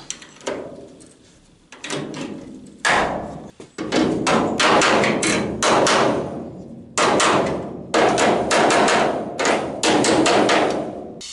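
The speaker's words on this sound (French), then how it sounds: "avec mes pincettos, des petites tôles, je vais commencer à redresser et à remettre tout en place" Metal hammering on the thin sheet-steel body panels of a Citroën Traction 11BJ being straightened with small dollies, loud close bursts of rapid repeated blows separated by short pauses, with no talk.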